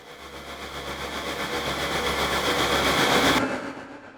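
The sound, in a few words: UVI Orbit riser preset with texture layer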